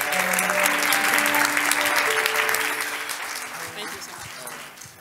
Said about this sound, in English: Give the graduates another hand clap, please.